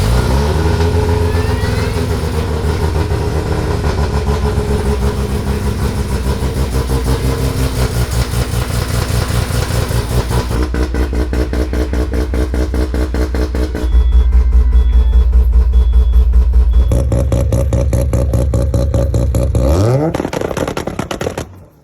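A Mazda FD RX-7 rotary engine runs loud and close, idling with a steady rough pulse. It rises to a higher, faster drone midway and then winds down before cutting off at the end.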